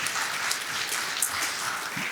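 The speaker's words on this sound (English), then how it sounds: "That's a clapping situation." Audience applause at a church gathering celebrating a Christmas toy drive donation, steady dense clapping from a crowd filling the room throughout.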